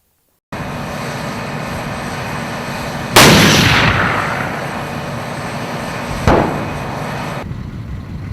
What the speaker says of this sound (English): The profoundly overwhelming majority of projectiles on Earth are from weapons like this field gun